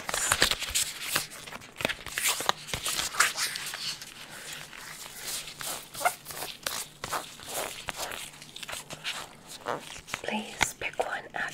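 Close, soft riffling and snapping of a deck of playing cards being shuffled in a quiet ASMR setting, with repeated crisp bursts over several seconds. Faint whispering sits underneath.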